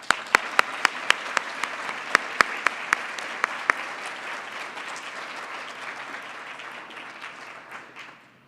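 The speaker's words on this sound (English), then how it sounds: "let's give her a round of applause" An audience breaks into applause for a speaker's introduction, a few sharp close claps standing out over a dense, steady wash of clapping that gradually thins and fades toward the end.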